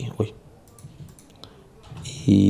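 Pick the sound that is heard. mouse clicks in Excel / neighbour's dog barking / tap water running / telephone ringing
mouse clicks in Excel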